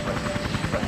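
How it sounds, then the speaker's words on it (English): A Sea King military helicopter hovers during a rescue hoist at an air show crash, its rotor chop pulsing steadily and loud, with crowd noise faintly mixed in. "a Sea King military helicopter hoists the lieutenant to safety"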